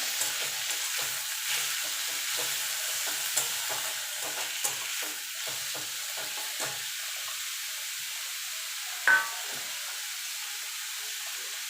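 Radish greens frying with onion in a pan give a steady, close sizzle with stirring scrapes throughout and a brief clink near the end.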